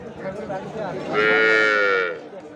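A cow at a cattle market where Sahiwal heifers and local cows with calves are for sale gives one loud, close, drawn-out moo over a low murmur of market noise.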